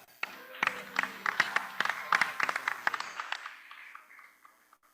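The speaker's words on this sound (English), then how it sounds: "please give them a warm round of applause" An audience at a Rotary Club meeting gives a round of applause for visiting Rotarians and guests. The clapping is moderate and close, a dense burst of claps that thins out and fades to silence within about four seconds.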